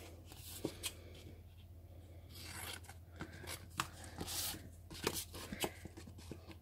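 Scissors or a blade cutting open the plastic packaging of a traveler's notebook scrapbooking kit, heard as soft, irregular snips and crinkles close by at low level.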